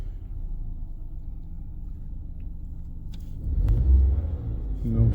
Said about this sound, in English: Car's now been running for about 8 minutes. Engine sounds absolutely normal.